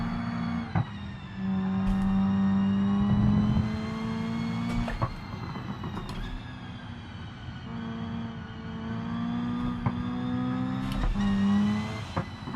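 Race car engine in the BeamNG driving game, a steady droning hum that swells and eases as it accelerates, with brief clicks and thumps, no voices.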